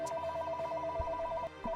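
A telephone rings quietly with a steady electronic two-tone warble that keeps repeating, with a brief break, while soft knocks and thumps sound in the background.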